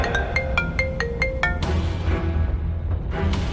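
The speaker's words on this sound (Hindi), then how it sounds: "तभी उसके पास रघुवीर पंडित का फोन आ गया।" A phone ringtone plays a quick series of bright, repeated electronic tones, then stops abruptly. It is part of a Hindi audio drama and is followed by a low background bed with no speech.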